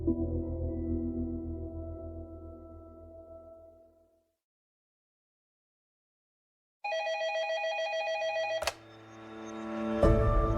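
An office telephone rings in two bursts of bright electronic tones separated by silence, fairly clear and close, with no talk.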